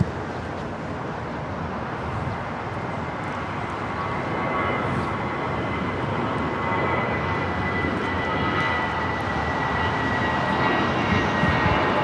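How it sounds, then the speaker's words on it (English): American Airlines Airbus A319 taking off from LAX, heard as a steady, fairly distant jet rumble that builds gently and holds throughout, with no talk. "This is American Airlines 2299 taking off to San Antonio on the A319"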